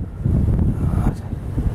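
Wind on the bank of the Western Dvina river buffets the microphone in a loud, steady low rumble that lasts about two seconds.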